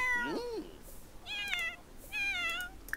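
A cat in The Sims 4 game meows several times, a high wavering call followed by two longer, clearer meows spaced apart, fairly close with faint game ambience behind.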